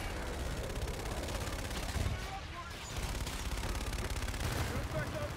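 A called-in fire strike pounds its target in the video game Infinite Warfare: dense, continuous rumbling gunfire and blasts fill the whole stretch, with a brief dip midway before the barrage resumes at steady loudness.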